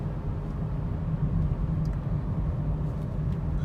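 Steady engine and road rumble inside a 2020 Perodua Bezza 1.3 sedan on the move, a constant low drone with no talking.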